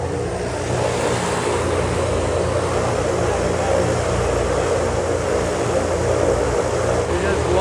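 Variable pitch propellers on the Goodyear blimp run in reverse, a loud, steady droning roar with low engine rumble and broadband whoosh, heard from close by inside the craft while people talk over it.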